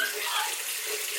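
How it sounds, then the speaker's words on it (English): Tap water runs steadily into a bathroom sink and is scooped up in cupped hands during a morning skincare routine, a close, continuous wash of splashing with no talk over it. "So I just like cup the water in my hand"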